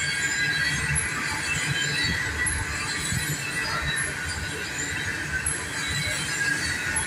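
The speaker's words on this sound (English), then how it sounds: "I hear the train coming, it's rolling around the bend" A train rolls by with its wheels squealing, a sustained high metallic screech riding over a rumbling, clattering passage at moderate distance, with no talk.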